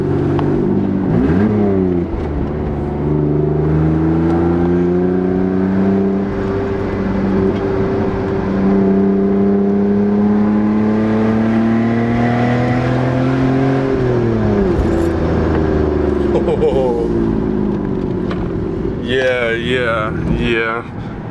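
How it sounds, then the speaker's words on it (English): BMW E46 fitted with a custom exhaust, revving hard through acceleration pulls; loud, close engine drone rising steadily in pitch, dipping briefly between gears, with a person speaking near the end. "I'll do a couple pulls for you guys so you can hear it"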